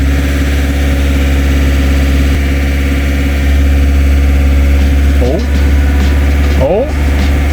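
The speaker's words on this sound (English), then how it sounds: "Gonna give her some revs" A project car engine idles loud and close with a steady rumble and a ticking from the top end, then gets two quick blips of revs that rise and fall.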